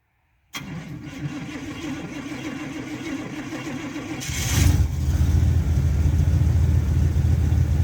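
A car engine cranks and catches after a snow storm, a short starter whine followed by a steady close idle that settles into a low rumble.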